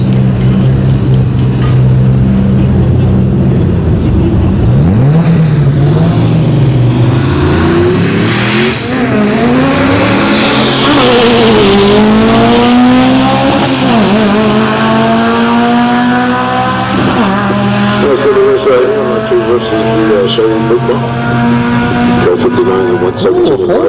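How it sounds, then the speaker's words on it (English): Drag race cars at a Friday-night event, an all-motor MR2 against a turbocharged Yukon, roar loudly and continuously for the whole span, engines revving and climbing in pitch as they launch and pull away, under an announcer's ongoing commentary. "MR2 going up against Mikey in the Turbo Yukon."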